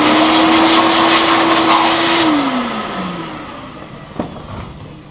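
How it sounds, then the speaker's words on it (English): Shop vacuum whining loudly and steadily as it sucks up fiberglass dust during a boat electronics mount install, then its motor pitch drops and winds down, followed by a brief knock near the end. "Going to grab the vacuum and get rid of this fiberglass"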